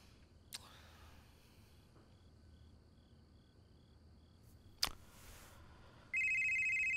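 A mobile phone starts ringing loudly near the end with a steady electronic ringtone, after a quiet stretch of crickets chirping and a couple of sharp clicks.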